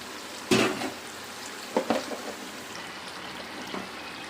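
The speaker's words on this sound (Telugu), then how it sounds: "ఇప్పుడు మనం వేయించి పెట్టుకున్న చికెన్ ముక్కలు కూడా వేసేద్దాము" Fried chicken pieces dropped into hot oil with gongura pickle, giving a sharp sizzling burst followed by two smaller splashes of frying, close and fairly quiet over a low steady hiss, with no voices.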